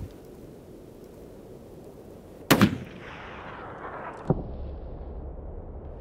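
A single sharp rifle shot cracks out while hunting mule deer in Colorado, echoing off the terrain, followed a couple of seconds later by a fainter thump over quiet outdoor ambience.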